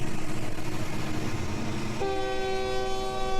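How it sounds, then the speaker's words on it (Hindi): Rumbling approaching train with rhythmic rolling, then a loud, sustained horn blast cutting in partway, close and dominant, in a horror story sound effect. "दूर से ट्रेन की सीटी सुनाई दी।"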